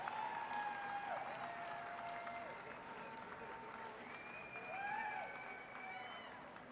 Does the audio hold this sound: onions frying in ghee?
no